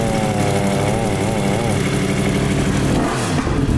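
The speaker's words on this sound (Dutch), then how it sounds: "We gaan er vandoor met de motor." A motorcycle engine revs as the ride pulls away, a loud close rising and falling roar with the pitch sweeping up and shifting, while a voice speaks over it.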